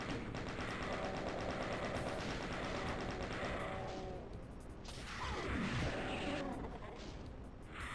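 A chaingun in Doom 2 fires in a steady, rapid stream of shots under a dense, noisy background of game sounds and music, with a whooshing swell near the end.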